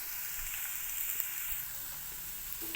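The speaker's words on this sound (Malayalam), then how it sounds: "അപ്പോൾ ഈ ഇഞ്ചിയും വെളുത്തുള്ളി ഒന്ന് നല്ലപോലെ മൂത്ത് വരട്ടെ." Ginger and garlic fry in a pan for a simple spicy fish curry, giving a steady, even sizzle with a faint hiss throughout and no talking.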